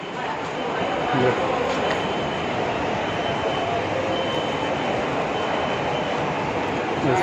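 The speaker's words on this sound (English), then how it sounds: "railway station." A train rumbles through SMBT railway station in Bangalore, a continuous broadband roar with a faint wheel whine that holds steady for the whole stretch, and people talking underneath it.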